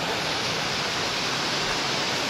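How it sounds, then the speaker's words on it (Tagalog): Heavy rain pours down steadily outside a house, a dense, continuous hiss that stays loud and even throughout, with no voices. "Saka naman umulan ng malakas."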